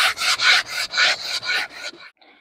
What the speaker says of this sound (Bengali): ভালো করে ঘষে ঘষে পরিষ্কার করতে হবে